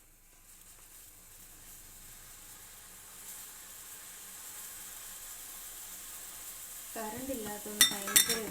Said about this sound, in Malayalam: കടുക് വറക്കണം കേട്ടോ നമ്മുടെ കഷ്ണങ്ങളെല്ലാം വെന്തിട്ടുണ്ട്